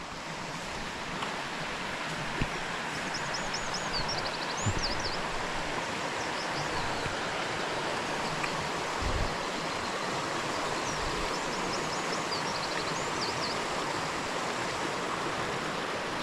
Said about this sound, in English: So you've got a nice little bit of a waterfall coming down there through the slipway.